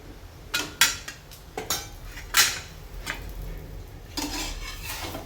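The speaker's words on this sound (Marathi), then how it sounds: "दोन्ही बाजूने छान भाजून घ्यायचं आहे" Aloo methi paratha roasting in plenty of ghee on a pan, with a few sharp clinks and scrapes of a spatula against the pan over a faint background sizzle, no talking.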